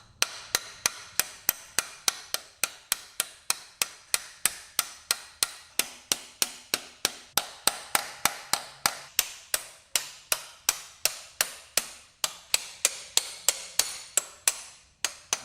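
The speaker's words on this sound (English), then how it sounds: "I'm going to use a small hammer." Rapid, evenly spaced metallic taps of a small hammer driving out a motorcycle swing arm bolt, dozens of light strikes in a steady rhythm, close by and with no speech.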